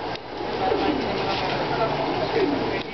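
Pigeons cooing inside a loft housing young racing birds, a steady murmur of soft coos throughout, with a person talking intermittently nearby.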